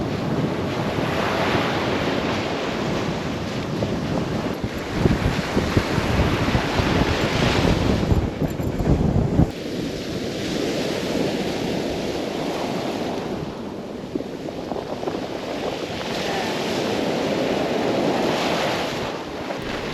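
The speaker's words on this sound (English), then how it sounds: "One more walk on the beach." Ocean surf rolls onto a beach in Baja California Sur, a loud, continuous wash of breaking waves heard close by, with heavy wind buffeting the microphone throughout.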